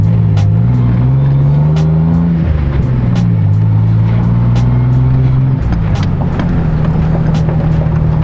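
A repaired truck engine revs hard during a boosted launch, loud and close, its deep rising drone climbing in pitch, dipping and surging again, with sharp clicks and rattles over the roar.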